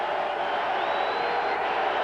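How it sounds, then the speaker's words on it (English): Lively crowd noise at a 1992 NFL game between the Cincinnati Bengals and the New York Jets, a steady roar of many voices filling the stadium without pause. "Been a lively crowd here in the second half."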